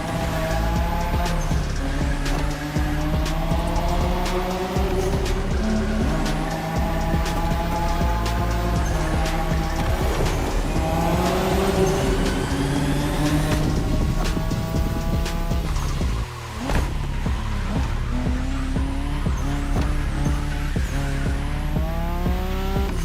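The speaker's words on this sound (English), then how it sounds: "it's all about drifting. Oversteer while maintaining control for a high exit speed" A car drifting in the racing video game The Crew Motorfest, its engine revving and shifting through gears while the tires squeal repeatedly through long oversteer slides, loud and close for over twenty seconds with no talk.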